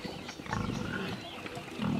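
Pigs on a farm squeal and grunt loudly up close, rough harsh cries in short bursts that rise and fall.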